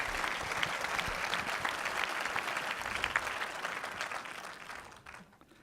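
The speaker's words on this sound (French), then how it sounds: "je voudrais vraiment qu'on l'applaudisse encore de tout cœur" An audience at an official speech event with dignitaries present gives a speaker sustained, dense applause that stays steady for several seconds and then fades out near the end.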